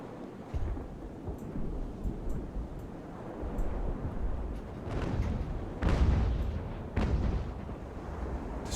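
Sailing warships trade cannon fire in the Ultimate Admiral: Age of Sail game, with deep rumbling booms rolling in at irregular intervals, some nearer and sharper, over a constant low wash of sea and battle noise.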